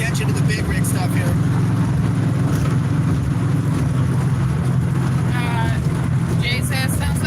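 A 1969 Dodge Dart GTS rolls over speed bumps on a curving road through the agave fields of Jalisco, Mexico, its steady engine and road drone filling the scene from start to finish while people talk over it.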